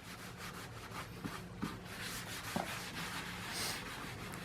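Someone rubs a darkening finish by hand into the metal of a broad head axe head during restoration. The rubbing makes a faint, continuous close-up swishing with a few light knocks and no speech.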